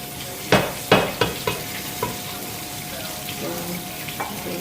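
Chicken pieces set back into a pan of coated rice for Spanish chicken and rice, giving a few sharp clatters and sizzling bursts early on, then a low steady frying hiss that fades toward the end.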